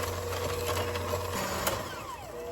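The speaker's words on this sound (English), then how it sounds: "now I'm using an electric hand mixer and start mixing this butter and the sugar until creamy" An electric hand mixer whirs steadily through butter and sugar, its motor hum dropping in pitch partway as the beaters work the mix, close and fairly loud with no talking.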